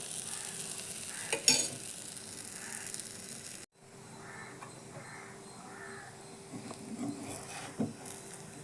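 Oil poured into a hot pan for chapati sizzles and crackles softly, with stirring taps and occasional crow caws in the background.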